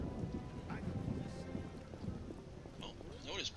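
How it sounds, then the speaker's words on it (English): Rain falls steadily with rolling thunder in the video game The Witcher, a soft continuous hiss with low rumbles and a brief spoken interjection near the end, all quiet and distant. "when will this rain stop?"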